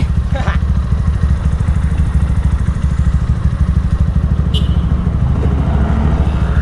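Steady low engine drone from a GPX Demon GR200R 2-valve motorcycle being ridden at night, a loud continuous thrum with a faint voice briefly audible underneath.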